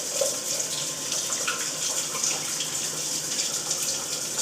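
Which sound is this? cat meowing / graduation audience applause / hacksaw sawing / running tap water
running tap water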